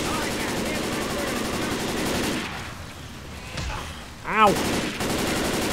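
Rapid gunfire crackles in Left 4 Dead 2, loud bursts of automatic shooting under game ambience, broken by a brief whooshing effect and a short pained voice exclamation.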